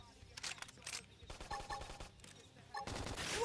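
Bursts of gunfire and impact blasts in a Xenoblade Chronicles X combat sequence crackle in several quick clusters, fairly quiet and choppy, with snatches of voices in between.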